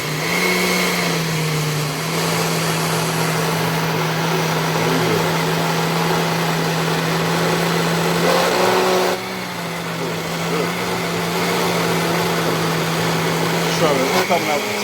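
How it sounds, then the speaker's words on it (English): A blender blending split pea soup gives a steady motorized whir throughout, loud and close, with a brief shift in pitch midway as the speed setting changes. "So now we got it in the blender. I'm going to start it on a little lower setting."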